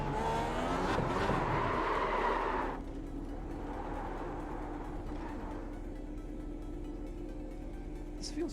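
A seven-gear Formula race car engine in a racing game revs loudly at first, then drops to a steadier, quieter drone as the car runs on, with faint road noise underneath.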